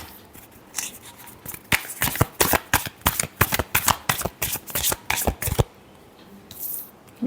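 A deck of tarot-style cards shuffled by hand: a rapid run of crisp riffling slaps and flutters in irregular bursts, close and clear, ending in a brief pause and a final rustle.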